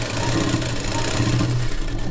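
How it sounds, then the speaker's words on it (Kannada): A sewing machine runs steadily while stitching a blouse, a continuous close mechanical whir with a low rhythmic hum throughout, no voices. "ಅಲ್ಲಿಗೆ ಸ್ಟಿಚ್ಚನ್ನು ಹಾಕ್ಕೊಡ್ತೀನಿ."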